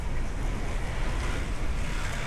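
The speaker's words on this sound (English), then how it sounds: "Chill, listen to the sounds of the waves." Ocean waves wash onto a beach in Pattaya, Thailand, a continuous broad roar of surf with wind buffeting the microphone throughout the short stretch.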